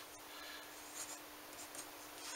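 Soft, quiet scratching of a math derivation being written out by hand, with continuous light strokes and a few slightly sharper taps over about two seconds and no talk.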